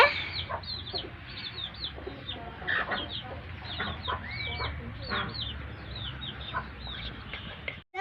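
A hen clucks steadily in short repeated calls, close by, with other birds chirping and faint farmyard background throughout.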